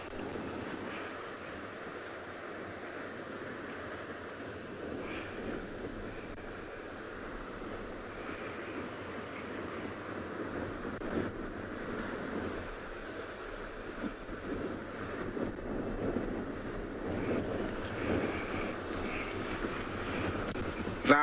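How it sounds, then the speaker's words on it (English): Calm river water flowing in the Mara, a soft, steady wash heard at a distance with faint wind noise over the microphone throughout. "That's the sound of the water that I am getting from where I am."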